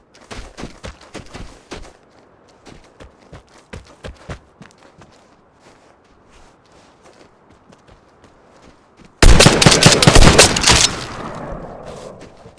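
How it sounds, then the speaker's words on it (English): Gunfire from the multiplayer shooter Vigor erupts in a sudden loud, dense burst of shots lasting about two seconds, after a long stretch of quick footsteps. "gunshots attract players."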